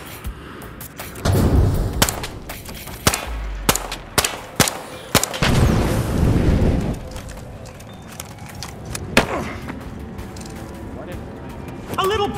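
Gunshots and red barrel explosions in The Finals video game: sharp irregular shots with a few heavy booming bursts and rumbling debris, loud and close over a noisy game background.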